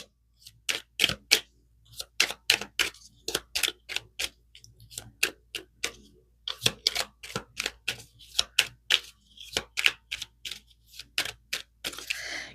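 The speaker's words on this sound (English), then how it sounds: "Right, let's pull some moon cards." Tarot moon cards are shuffled and pulled in a rapid run of crisp riffling snaps and taps that pause briefly and then go on, close and clear without any talk.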